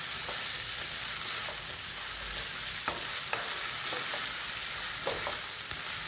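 Onions frying with spices in a pan for chicken macaroni, a steady close sizzle broken by a handful of light spatula scrapes and taps.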